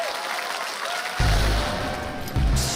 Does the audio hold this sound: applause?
yes